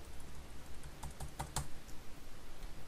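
Computer keyboard keys are pressed for a trading-platform shortcut, a few quiet separate clicks near the middle over steady background hiss, with no talking.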